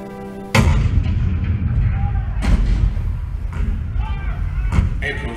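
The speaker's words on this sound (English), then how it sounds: "The cannon spoke for war, bitter, violent, and devastating." A loud cannon blast from the Fort Sumter scene of the Hall of Presidents, a sudden deep boom followed by rumbling reverberation, with further heavy thuds later over a dense low roar of theatre effects.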